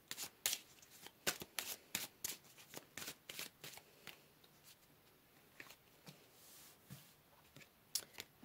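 Tarot cards being shuffled by hand, a quiet close series of crisp riffling bursts and soft slaps in an irregular rhythm, with brief pauses between.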